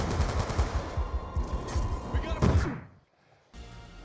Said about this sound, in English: It's just more shooting behind walls where they can't see me.